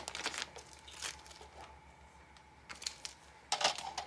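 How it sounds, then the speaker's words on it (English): Scissors snipping and crinkling through a paper paw-print embellishment for a cat junk journal, heard as a few short, close, crisp cuts and rustles with quiet pauses between them. "so I'm gonna cut this off"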